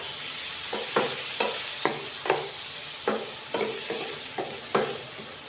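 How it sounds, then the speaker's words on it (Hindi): Marinated chicken pieces fry in hot oil in a home kitchen, a steady loud sizzle punctuated by repeated scraping strokes of a stirring spoon, with no talking. "हमने इसकी अच्छे तरीके से भुनाई कर लेनी है।"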